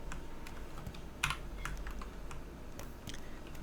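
Computer keyboard keys are pressed during 3D modeling work in Blender, with a few soft, scattered taps and one slightly louder click. The sound is quiet and close, over faint room hiss, with no speech.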